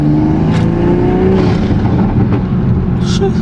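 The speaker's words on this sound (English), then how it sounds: "Nice little backfire." Toyota MKV Supra driving under steady engine drone, with a brief sharp pop around the middle and another near the end, consistent with exhaust backfires.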